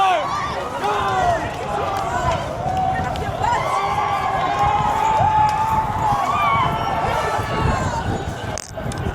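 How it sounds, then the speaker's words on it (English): Protest crowd and police running through a Sydney street at a rally, with a dense, continuous roar of many voices, shouting and hurried footsteps held at steady loudness for the whole stretch. "You can see the cops running to block the road, but the crowd is moving faster."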